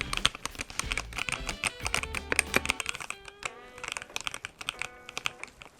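Fairly quiet, close typing on a Razer Phantom White gaming keyboard, rapid uneven keystrokes in quick bursts with short pauses and no voices.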